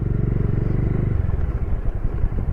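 A Bajaj Dominar 400 motorcycle ridden slowly in first or second gear on a Ladakh road rumbles steadily up close, a low throbbing engine note with a continuous thrum and some clatter.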